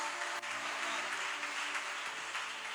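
A church congregation applauds in a dense, even roar of clapping with a low hum underneath, sustained without a break.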